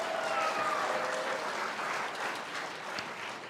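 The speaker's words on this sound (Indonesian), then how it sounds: "Tepuk tangan sekali lagi." A burst of applause from a crowd at a Catholic church music festival, dense and steady, slowly easing off toward the end.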